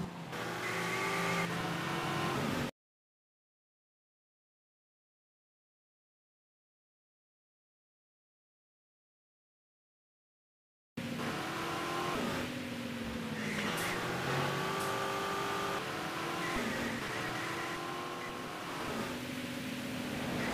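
A car in the video game GTA 3 drives and accelerates, its engine droning steadily in the foreground, cut off by a long stretch of silence before the motor resumes with rising and falling revs.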